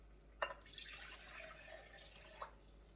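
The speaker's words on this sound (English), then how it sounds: "I'm going to add some water in here." Water is poured into red chile in a pot while cooking New Mexico red chile with pork carnitas, giving a faint splash and a couple of small drips over quiet room noise.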